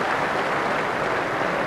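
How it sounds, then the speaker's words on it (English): Sustained applause from the crowd at an indoor bowls quarter final, a dense, steady wash of clapping that holds at an even level throughout with no voices over it. "Oh, applause there, sustained applause."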